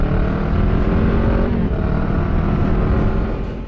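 A Honda Rebel motorcycle engine revs loud and close, a rough, steady roar that holds for a few seconds before easing slightly at the end.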